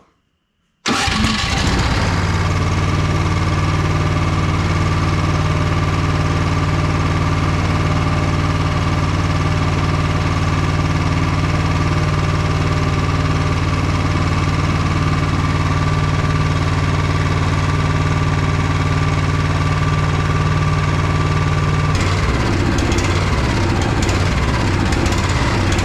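Honda HSS928ATD snowblower engine starts abruptly, then runs at a loud, steady idle with a constant mechanical hum; the tone shifts slightly near the end as fuel is cut, with no voices.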